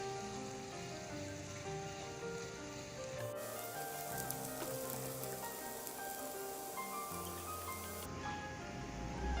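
Chopped onion fries in a pan over low heat for a fish roe dopiaza, giving a soft, even sizzle that hisses steadily like light rain, with no talking.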